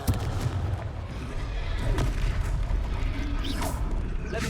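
A Confringo blasting spell detonates in Hogwarts Legacy, giving deep booming explosions that land in quick succession over dense, rumbling game noise.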